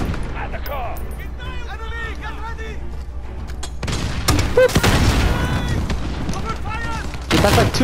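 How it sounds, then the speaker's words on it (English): In Call of Duty Modern Warfare, two grenades go off close by amid heavy gunfire, loud booming blasts and rapid shots that swell in the second half, with talking and chatter running through. "That's like two grenades that just landed next to me."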